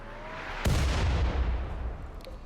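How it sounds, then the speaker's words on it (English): In the RimWorld video game, mortar fire lands as a single sudden, heavy boom, followed by a long rumbling decay. "Just in case the mortars come after you."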